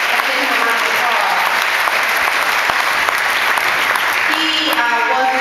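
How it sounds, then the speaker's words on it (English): Loud, sustained applause from an audience at a Detroit Martin Luther King Day honoring event, a dense, continuous roar of clapping throughout, with a voice rising briefly near the end. "Let's give him a round of applause."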